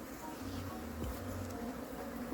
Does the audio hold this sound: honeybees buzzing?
yes